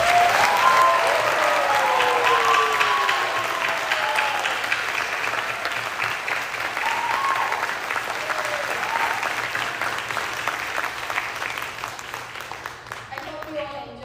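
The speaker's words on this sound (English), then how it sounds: "Can we have one more round of applause?" Sustained audience applause after a Bharatanatyam arangetram dance performance, dense steady clapping with cheers and voices mixed in, gradually thinning toward the end.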